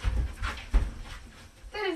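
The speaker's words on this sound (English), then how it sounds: "What breed is the dog? He's a Great Pyrenees." A Great Pyrenees dog pants and whimpers close by, with soft breathy bursts and a high whine near the end, while people talk faintly in the background.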